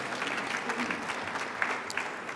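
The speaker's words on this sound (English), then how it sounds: "Can you give them all a nice round of applause?" A moderate crowd applauds the commissioners at a Women's History Month celebration, a steady patter at middle distance with a couple of sharper individual claps standing out.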